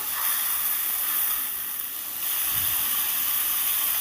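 Mustard and poppy seed spice paste sizzling in hot oil in a pan, a steady broad hiss that dips briefly midway and then resumes, with no talking.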